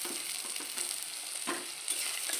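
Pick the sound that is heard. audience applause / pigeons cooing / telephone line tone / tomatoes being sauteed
tomatoes being sauteed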